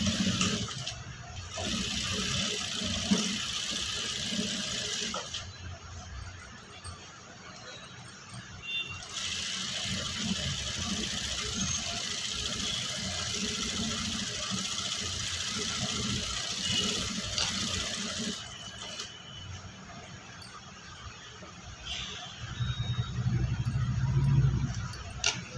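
A sewing machine stitches a princess cut blouse in long continuous runs of fast, even whirring, stopping briefly between seams, with a quiet hum underneath and no one speaking.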